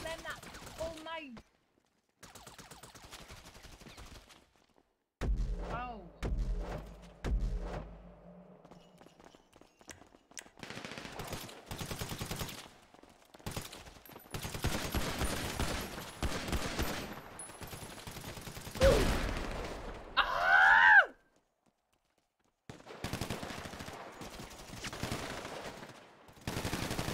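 Gunfire in a GTA shooting match, scattered bursts and single shots at varied distances, some loud and close, others faint, mixed with footsteps and game noise, with a voice talking at times.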